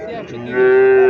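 A cow moos loudly and close by at a cattle market where a Sahiwal calf is for sale, one drawn-out, rising call that swells and holds to the end.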